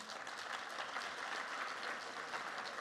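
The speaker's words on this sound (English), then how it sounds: "So please a quick round of applause for our panelists." An audience at the European Organic Congress plenary session applauds the panelists with steady, dense clapping that fills the hall evenly from start to finish, with no voices rising above it.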